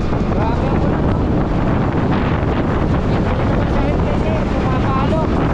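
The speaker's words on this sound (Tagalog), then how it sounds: "Pumapalo ang tubig." Water slapping against a small boat in strong wind near Batangas, a dense, constant roar of wind buffeting and splashing close by without a break.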